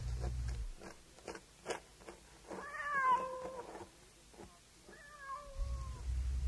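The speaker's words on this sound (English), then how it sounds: "The cat was crying and sniffing at the door, hoping the woman would open it and let it in." A cat cries in several drawn-out meows at a front door. Soft scuffing and sniffing noises come between the calls, close and fairly quiet.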